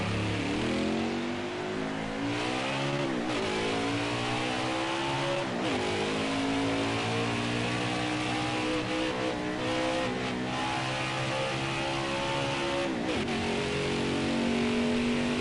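Race cars in NASCAR Heat 5 at Homestead roar to full throttle at the green flag, a loud dense pack of engines revving and rising in pitch together through repeated gear shifts, continuous with no talk.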